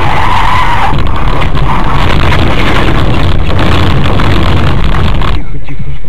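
Cars brake hard on a road, tires skidding and squealing loudly for several seconds in one long harsh smear, with voices talking through it before it cuts off abruptly.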